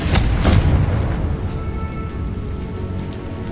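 A Bombarda or Confringo blasting spell explodes in a video game with a loud, booming burst at the start. Rumbling, crackling debris follows and tails off gradually over about three seconds.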